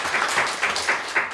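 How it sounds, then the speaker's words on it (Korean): A church congregation applauds at a Methodist church's tenth-anniversary thanksgiving service, giving a dense, steady wash of many hands clapping in a reverberant room. "하나님께 영광의 박수로"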